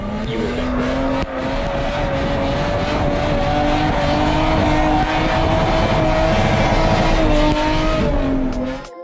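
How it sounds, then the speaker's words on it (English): A Lexus IS300 SportCross wagon drifts with its engine roaring loud and close as the revs climb and hold. Long tire squeals run under the engine noise the whole time, with no talking. "learning to drift in a wagon that's been masquerading as a shelf for the last 2 years"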